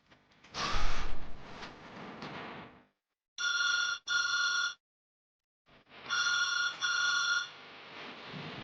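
A telephone rings unanswered, in two-pulse bursts repeated twice, each burst clear and ringing alone, with rustling movement and other room noise before and between the rings.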